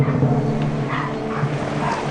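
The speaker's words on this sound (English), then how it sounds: "Dogs are going ballistic because someone arrived next door." Dogs bark and yip at a distance, short muffled bursts over a steady background hum.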